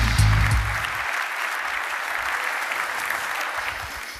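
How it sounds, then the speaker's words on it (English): Audience applause for a speaker at a Qt software conference, a steady dense clapping that starts with a brief low voice-like burst and continues evenly throughout. "Applause for Michel Nederlof, Quantitative Imaging Systems."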